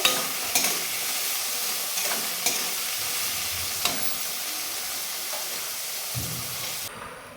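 Food fries in a pan until reddish for a birthday meal, a steady broadband sizzle running throughout with a few sharp stirring scrapes and clinks, close and moderately loud, no voices.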